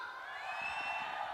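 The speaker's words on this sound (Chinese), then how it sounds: "来点掌声和欢呼声" An audience at a live Tibetan song concert claps and cheers in a steady, dense wash of applause with scattered whoops, loud and continuous for a brief moment.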